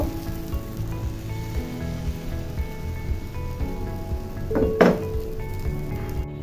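Patishapta batter sizzling on an oiled pan, with a soft continuous crackle and hiss throughout and a brief sharper clatter near the end, nearby and fairly quiet.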